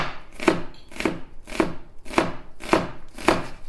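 A knife chops red onion finely on a cutting board, six evenly spaced, crisp strikes in a steady rhythm, close and clear with no talking.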